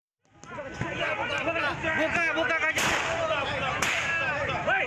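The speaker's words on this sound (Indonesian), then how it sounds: "melepaskan tembakan ke udara di Jalan Kedoya Raya, Kebonjeruk, Jakarta Barat" Two sharp warning gunshots fired into the air by police ring out a second apart amid excited shouting and crowd noise on a Jakarta street.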